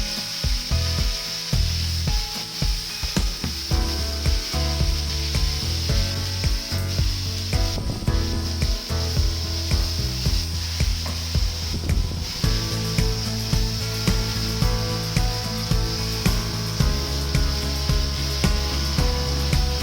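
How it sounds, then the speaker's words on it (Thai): Herbs and chicken being stir-fried in a pan, a steady loud sizzle with repeated scraping and tossing strokes of the spatula throughout, no talking. "ผัดคลุกเคล้าให้เข้ากันดีเลยนะครับ"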